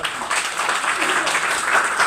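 An audience at a health products training session applauds, a dense, even wash of clapping from many hands lasting throughout.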